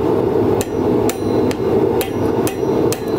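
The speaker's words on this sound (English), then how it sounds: "We're working over the far edge of the anvil." A blacksmith hammers hot metal over the far edge of an anvil while forging a spiral, with about seven sharp, loud, evenly spaced ringing strikes over a steady roaring background.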